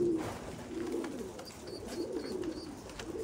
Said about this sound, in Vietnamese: đô có thể thấy là chim bồ câu rất là đẹp đúng không?